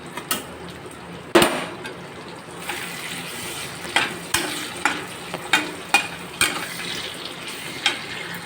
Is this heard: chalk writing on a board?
no